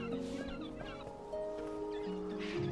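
Cartoon bird clucking in the adventure game Broken Age, a run of short nasal clucks and honks over tonal game music, moderately loud, no talking.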